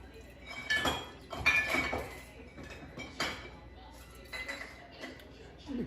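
Utensil stirring lemon mead mixture in a pot, quiet irregular clinks and scrapes of metal against the pot in short bursts, fairly faint.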